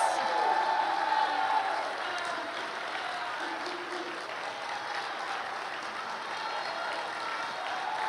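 Applause and cheering from an audience at the 41st Annual Arts Awards greeting the recipients, a dense sustained wash of clapping that is loudest at the start and then holds steady for the full eight seconds.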